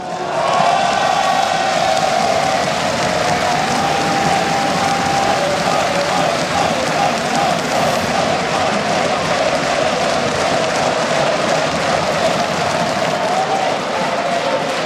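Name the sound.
big crowd cheering and applauding at StarCraft 2 event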